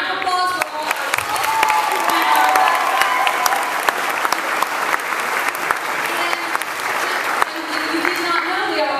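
Applause from the crowd at a school Arts Day awards ceremony, with dense steady clapping and cheers filling the hall and holding loud for the full stretch.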